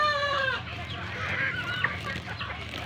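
Gamefowl hens and brood pullets cluck steadily at close range, with several overlapping birds forming a busy, continuous farmyard chorus.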